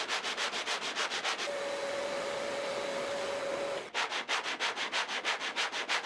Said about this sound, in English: The pencil marks I made where it wasn't at 90 degrees tell me where I have to press a bit more while sanding.